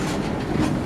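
A train rolls through Belawan market, a steady, dense rumble with rhythmic wheel clatter filling the whole second, close and loud, with no voices.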